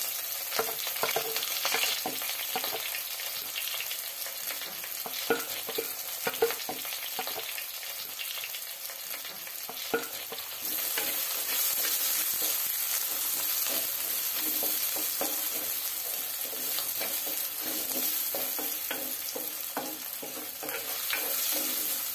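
Garlic, ginger and shallots fry in a pan for a Kerala-style fish head curry, giving a loud, dense, unbroken sizzle with scattered crackles and pops that intensifies partway through.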